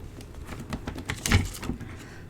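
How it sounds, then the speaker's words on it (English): Scissors cut through paper in a short run of quiet, close snips, about eight crisp strokes in quick rhythm, one slightly louder near the middle. "I'm just going to cut in between"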